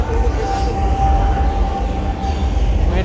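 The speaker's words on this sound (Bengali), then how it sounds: "মেট্রো চলে এসছে" A metro train arriving at a station: a loud, steady low rumble with a sustained whining tone, with people's voices mixed in over the noise.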